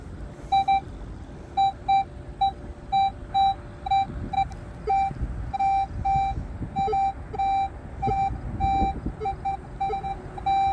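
A metal detector sweeping over a deep target, giving a fast run of loud, evenly spaced high electronic beeps that keep repeating over faint rustling ground noise.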